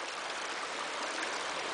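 A small headwater brook runs past a bank beside a pump, in steady broadband rushing and trickling that stays even and close throughout, with no voices.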